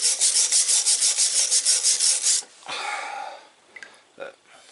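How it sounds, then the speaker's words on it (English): A brush rubs lightly and rhythmically over vinegar-soaked rusty iron, a run of steady close scrubbing strokes that then gives way to a few fainter, scattered scrapes. "I'm just lightly going over it with a brush"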